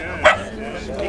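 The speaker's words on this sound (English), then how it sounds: "noisy dog" A single short, sharp dog bark cuts through the ambient murmur of an outdoor BMC and British Leyland classic car show at Gaydon, with crowd noise continuing around it.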